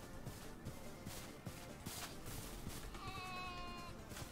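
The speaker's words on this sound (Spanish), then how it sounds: "¡Hay un montón de ovejas!" Sheep in Minecraft RLCraft bleat over a noisy, busy game soundscape, with a clear wavering bleat near the end against constant background noise.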